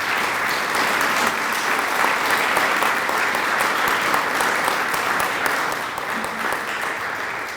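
Sustained applause for the City Council at the grand opening of an event center, a loud, dense wash of many people clapping continuously, holding steady and easing slightly toward the end.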